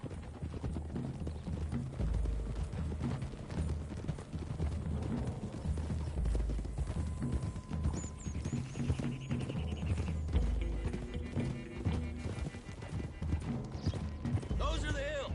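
Horses clip-clop uphill in Red Dead Redemption 2, a steady, close patter of hooves with an occasional whinny, mixed under ongoing character dialogue and game ambience.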